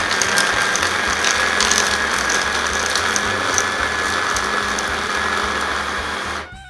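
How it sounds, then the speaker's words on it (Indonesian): A food processor grinds meatball dough, a loud, constant whirring churn that holds steady for several seconds close up and then cuts off abruptly at the end. "akan saya mulai haluskan adonan ini"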